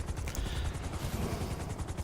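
A Super Velito helicopter in a racing game flies with a steady, fast chopping rotor thump and a whining engine, loud and continuous with no speech.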